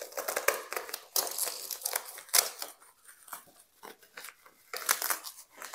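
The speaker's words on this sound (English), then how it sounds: "Sorry for all the crinkling. There's a lot of bubble wrap in here." Bubble wrap crinkling and crackling while small-shop diamond painting supplies such as large trays are unpacked, a dense run of close, loud rustling bursts with brief quieter gaps.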